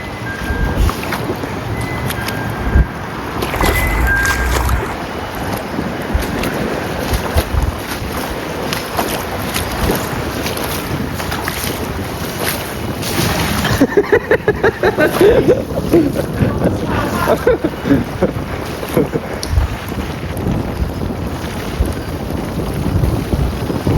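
Strong wind roars at sea around a small boat, a steady broadband rush that fills the whole stretch with gusty swells and no clear pauses.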